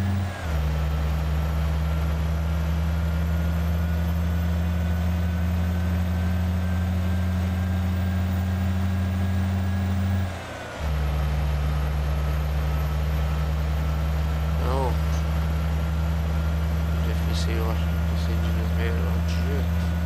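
Truck engine droning steadily inside Euro Truck Simulator 2, a loud constant low hum that briefly dips and shifts pitch as gears change, followed by faint clicks and beeps near the end; someone talks intermittently over it.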